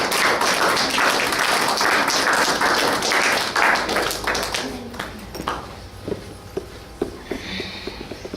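An audience at a church gathering claps loudly to welcome a speaker; the dense clapping holds steady for about five seconds, then thins into scattered taps, thumps and murmured voices.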